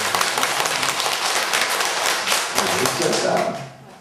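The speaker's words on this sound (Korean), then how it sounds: "박수 한번 쳐주세요" Audience applause after a request during a Buddhist lecture class, a dense, steady patter of many hands clapping throughout, fading slightly toward the end.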